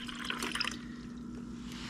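Water pours and fills a container, bubbling and aerated, with a short burst of splashing and trickling followed by a quieter, steady running sound close by.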